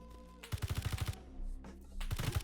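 Rapid bursts of gunfire from other players in the survival game HurtWorld, a quick string of sharp shots followed by further clustered volleys, moderately distant.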